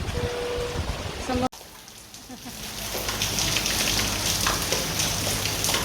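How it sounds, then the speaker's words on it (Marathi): Heavy rain pours down steadily outdoors during a sudden downpour, a dense hiss that grows fuller after a brief cutoff, with faint voices and a little vehicle noise beneath. "आता पाऊस आहे बाबा रे एवढा पाऊस आहे"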